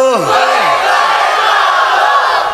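A large crowd at an outdoor Islamic religious gathering answers a takbir call with a loud, unified shout of Allahu Akbar, sustained for a couple of seconds after the leader's call.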